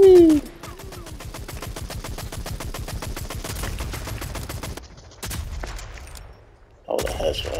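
Gunfire in the shooter Rogue Company rattles off in long, rapid, evenly spaced volleys, close and loud, pausing briefly before another burst cuts in near the end.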